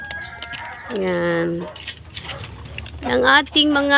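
Heritage chickens cluck and call in short, bright bursts at a backyard feeding time, fairly close and loud, with a person talking in Filipino over and between the calls.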